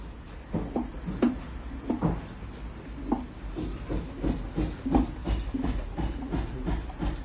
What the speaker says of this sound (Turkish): Beton yapışmasın diye yağ pompasıyla devamlı yağlanıyor.